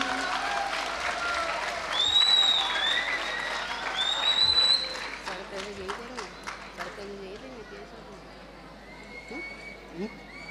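A large audience applauds at a school award ceremony, a broad, steady wash of clapping with a few whistles rising over it, swelling mid-way then thinning toward the end.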